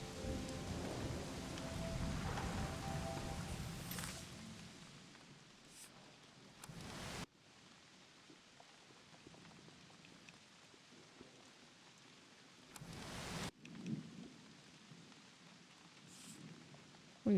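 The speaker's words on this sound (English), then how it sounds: "Grab some lightning and rain sounds." Steady rain falls with rolling thunder, loudest in the first seconds and returning in bursts with sharp cracks near the end, no voices present.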